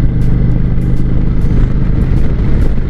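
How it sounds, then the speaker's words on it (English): A 2018 Indian Chieftain Limited motorcycle engine with stock exhaust running steadily up close, a deep, throaty rumble with a mild exhaust note and constant loudness, no voices. "this has the stock exhaust on the bike, so it has a nice throatiness to it"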